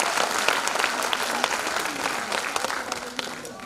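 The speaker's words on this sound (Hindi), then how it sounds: "तो ताली बजा दीजिए सर के लिए." An audience at a school Grandparents Day event applauds for a guest, with dense, steady clapping from many hands filling the hall, sustained and loud throughout with some crowd murmur underneath.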